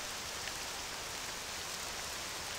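Rain falling in the video game Octopath Traveler II, a soft continuous hiss of steady drops, even and quiet from start to end.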